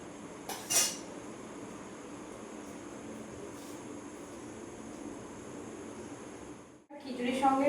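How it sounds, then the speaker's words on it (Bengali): A ladle stirs a pot of khichuri with spices, giving a few brief metallic clinks early on; the lid is then set down with a clatter near the end, over a low steady background hum. "এবার একটু হাতা দিয়ে নেড়ে নিয়ে ঢাকনাটা বন্ধ করে দেবো।"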